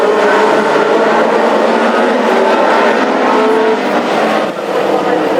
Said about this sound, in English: though by Daz Owen, Deadly Daz number 8, and a whole entourage of Mark 2s trying to charge the way through.